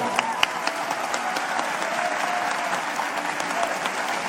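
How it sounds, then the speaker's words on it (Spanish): Audience applause at a 2018 Tec de Monterrey event with AMLO, a steady dense wash of clapping hands filling the hall, loud and continuous throughout with a few sharper claps standing out. "Un aplauso, por favor"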